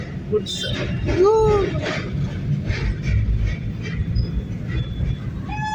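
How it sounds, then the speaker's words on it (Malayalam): A train rolls across a railway bridge in Agra, heard during a car trip, a steady rumble with wheel squeal overhead while people talk nearby. "പാലത്തിലൂടെ ട്രെയിൻ പോകുന്നുണ്ട്."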